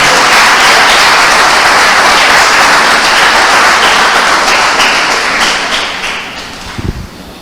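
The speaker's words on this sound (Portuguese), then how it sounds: "Aplauda bem forte" A church congregation standing and applauding loudly, dense continuous clapping that fades toward the end, with a few thumps at the close.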